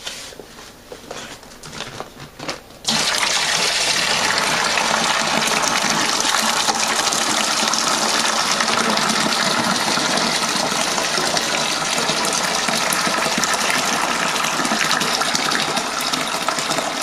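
Nebbiolo wine kit juice pours from a bag into a fermenter, starting with quieter handling and then becoming a loud, steady gushing stream that lasts to the end, with no talk.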